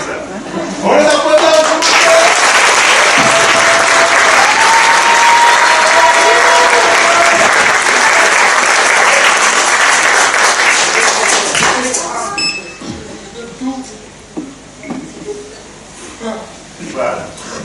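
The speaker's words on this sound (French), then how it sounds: "On les applaudit." A concert audience bursts into loud, sustained applause that fills the room for about ten seconds, then thins into scattered claps and crowd murmur, with voices heard over the clapping.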